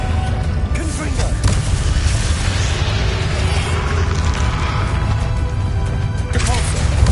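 Explosive Confringo spell blasts from Hogwarts Legacy combat against Ranrock, a dense run of booming crashes and whooshes that keeps loud and busy throughout, with no pause in the barrage.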